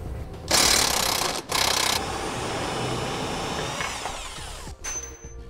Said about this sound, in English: Next, we'll remove this bolt here using a 17 millimeter socket.